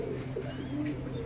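Domestic pigeons, several breeds kept for sale in Bangladesh, coo softly and continuously in a brief burst of low, throaty calls from close by.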